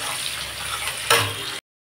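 Onions fry in a pan for a meat curry with a steady close sizzle, a brief louder stir or crackle midway, then the sound cuts off abruptly.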